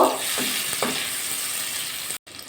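Tomato and spice paste sizzles on a low flame with okra and potatoes, a steady broadband hiss broken by a few scraping stirs near the start and a brief drop to silence near the end.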